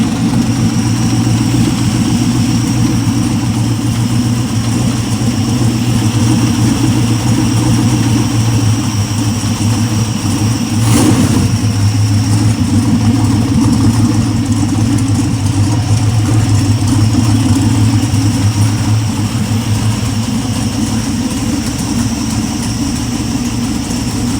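An aluminum 6.0 LS V8 engine test-fires and runs on a stand, holding a steady, loud, close idle with an even rumble throughout and no voices.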